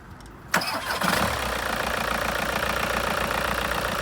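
A Volkswagen Passat engine cranks briefly and catches, then settles into a steady, even idle that runs close by until the end, with no voices.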